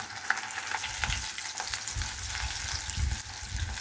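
Chillies and spices frying in hot oil, a steady bright sizzle with occasional stirring scrapes and pops, close and continuous without any talking.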